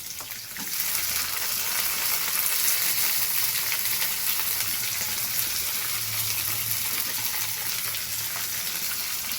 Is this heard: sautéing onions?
yes